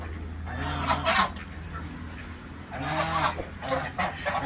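Full-size swan geese honk in two loud bursts of repeated nasal calls, close by, with a quieter gap between them and faint background noise.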